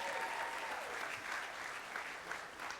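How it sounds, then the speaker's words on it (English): Audience applause for the orchestra at a cruise ship christening ceremony, a steady, dense wash of many hands clapping throughout, moderately distant and fairly even in level. "how about a round of applause for the orchestra tonight as well?"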